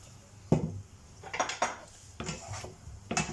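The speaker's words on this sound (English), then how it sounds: "So let's give this a mix." A spoon scrapes and knocks against a pot while a chorizo, bean and potato stew is stirred, several clattering strokes in irregular rhythm, close and fairly loud.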